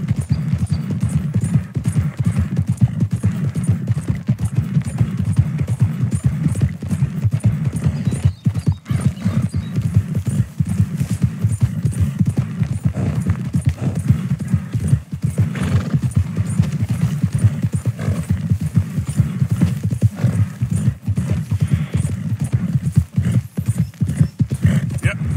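Horse hooves clip-clop steadily through a long ride in Red Dead Redemption 2, a continuous even gait with an occasional whinny, while someone talks over it at times.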